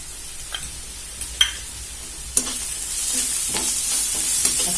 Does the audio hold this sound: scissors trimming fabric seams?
no